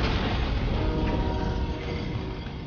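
Train passing in the video game Sunset Overdrive, a continuous broad rumbling rush of rail noise that stays loud and steady and fades slightly toward the end, with no voices.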